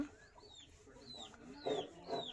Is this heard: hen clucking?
yes